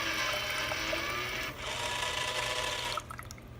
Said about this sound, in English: the machine, you can see here, it's gonna start turning. And then in the bottom, out comes your formula and your water